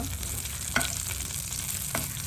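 Chilies frying in oil in a pan for Tamil-style chutney, a steady soft sizzle with two faint clicks of stirring, no talk.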